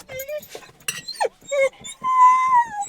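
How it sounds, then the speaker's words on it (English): An excited dog at a dog park whines, whimpers and yips in short high bursts, ending in a drawn-out whine, close and loud. "The dog is going crazy."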